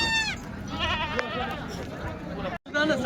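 Goats bleat at a village goat market, several loud nearby cries in quick succession over a background of crowd chatter and people talking.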